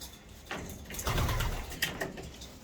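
Racing pigeons in a loft coo softly, with a couple of low throaty calls rising over quiet background rustle.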